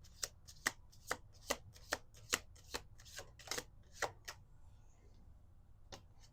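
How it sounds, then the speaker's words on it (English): A deck of cards is shuffled in a series of sharp, evenly spaced riffling snaps, about a dozen quick bursts close to the microphone, pausing briefly before a final few, with no speech over them. "Two more shuffles."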